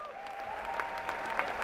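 Auditorium audience at the DD Robocon 2024 national round applauding, a steady wash of clapping with a few sharper claps and a faint tonal whistle or cheer in the background.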